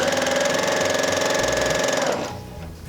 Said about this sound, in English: So right now I'm just going to line these up and sew a 1/4 inch seam down to connect both my halves.